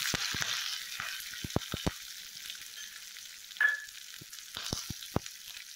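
Freshly cut green chillies tipped into hot tempering oil with the stove switched off, for curd rice, give a soft continuous sizzle with a few sharp clicks and taps of a spoon stirring the pan.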